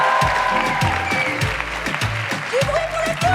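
Audience applause for two clowns at a live anti-fascism stage show, a dense, steady clatter of clapping that fills the room, with tonal voices or cheers rising over it.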